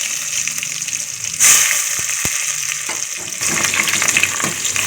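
Cumin, mustard seeds and onions frying in two spoons of hot oil produce a loud, steady crackling sizzle, close by, with a couple of faint clicks midway and no speech.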